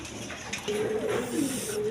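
A pair of large Damachil pigeons coos nearby, a low soft rolling call repeated a couple of times over a quiet background.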